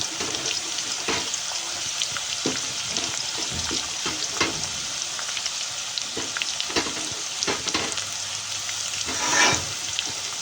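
Chopped onion fries with potatoes in hot oil, a steady close sizzle broken by repeated scraping stirs and clinks of a spatula against the pan.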